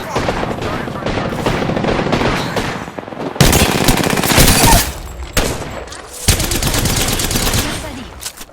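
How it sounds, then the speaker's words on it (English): Rapid automatic gunfire from the Apex Legends video game rattles in long, dense bursts, loud and close, with a brief gap mid-way and faint game voice callouts underneath. "I'm getting shot at."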